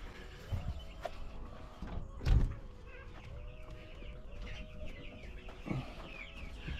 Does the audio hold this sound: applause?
no